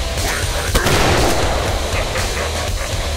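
A big gun firing in the video game Killing Floor, a loud sustained roar of heavy gunfire with a sharp blast partway through, filling the whole moment up close.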